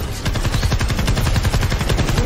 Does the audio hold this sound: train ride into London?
no